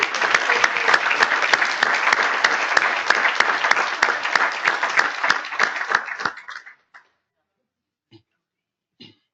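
Audience at a 2018 conference opening plenary session applauds honorable mention winners: a dense, loud burst of many hands clapping for about six seconds, then it quickly thins out to a few scattered claps and silence.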